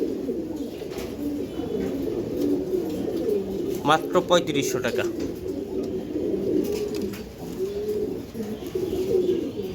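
A pair of Giribaz pigeons coo softly and continuously nearby, a low rolling murmur heard beneath someone talking throughout.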